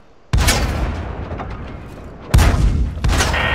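Tank cannon shots striking a track in a video game: two or three heavy booming blasts with long rumbling decay, loud and close, with no talking.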